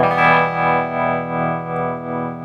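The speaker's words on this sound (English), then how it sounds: "Sound a bit more like a traditional tremolo." Electric guitar played through a Quaverato harmonic tremolo pedal on its smooth sine wave setting: a sustained chord pulsing in slow, even volume swells, roughly two per second, with a distorted, effected tone and no talking.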